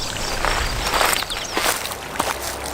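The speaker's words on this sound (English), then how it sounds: "that little sound you just heard of me walking backwards" Footsteps played in reverse, as if someone walks backwards: a few soft, smeared steps with swelling onsets over a steady low background hiss, close and moderately loud, with no talking.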